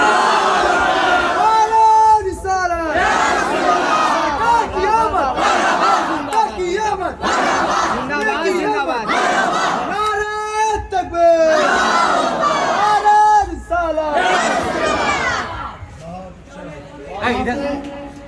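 A large crowd at a religious conference roars back a loud chanted response to the Naara-e-Takbir call, with massed voices rising and falling in repeated surges over about eighteen seconds.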